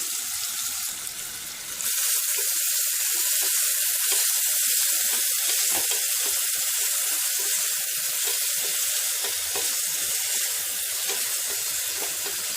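Thinly sliced onion sizzling in hot oil in a pan, a steady, loud hiss starting after a brief quieter moment and running on continuously with no talk.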